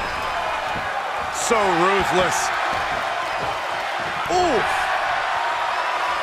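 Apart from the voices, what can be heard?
wrestling arena crowd cheering, from video game WWE 2K23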